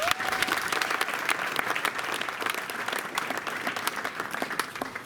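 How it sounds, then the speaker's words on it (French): Dense applause from a large crowd at an APC (Alliance pour le progrès du Congo) political party rally, steady and sustained throughout with a faint tone at the start. "Distingués invités à vos titres et qualités respectives, dont je vous demande d'applaudir fortement."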